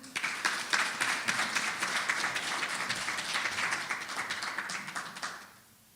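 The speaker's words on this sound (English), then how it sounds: "let's welcome him with a warm round of applause" A warm round of applause at a Boxing South Africa KwaZulu-Natal convention greets the acting CEO, dense clapping from a crowd at moderate distance that holds steady for several seconds and then quickly dies away.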